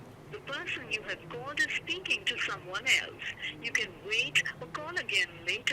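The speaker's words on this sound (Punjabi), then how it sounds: "ਵੇਟਿੰਗ ਦੇ ਵਿੱਚ ਆ ਰਿਹਾ ਫੋਨ" A recorded call-waiting announcement plays over a phone line during a call to a manager, a steady spoken message at moderate loudness that fills the whole stretch.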